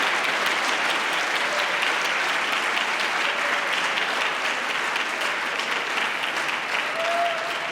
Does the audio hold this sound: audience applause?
yes